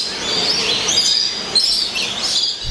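Birds chirp and call continuously at Jurong Bird Park in Singapore, a dense, bright chorus of tweets close by with no talking.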